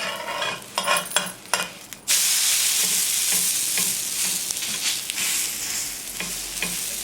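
A leftover-rice breakfast frying in a pan is flipped, with a few clatters of the spatula followed by a sudden loud, steady sizzle and light scraping, close up with no speech.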